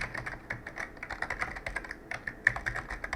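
Rapid typing on a computer keyboard, with close, crisp key clicks in an irregular steady rhythm and a few louder strikes, and no voices.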